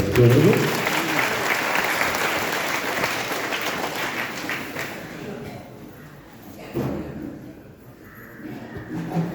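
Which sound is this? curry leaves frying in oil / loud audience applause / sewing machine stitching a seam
loud audience applause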